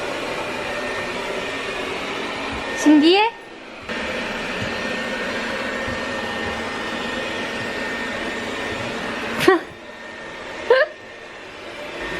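A robot vacuum cleaner runs in a home, a steady mechanical whir under a child's and adults' voices, with a few brief louder bumps and squeaks.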